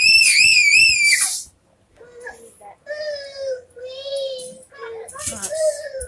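A young child shrieks in high, wavering screams in the background during a Fortnite game session, with a voice and further cries following in uneven bursts and brief quiet gaps between them.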